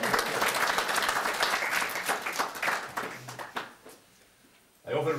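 Wedding guests applaud in a reception hall, a dense, sustained round of clapping that fades out over a few seconds before a voice starts speaking.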